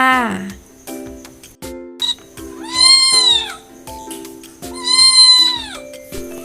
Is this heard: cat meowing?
yes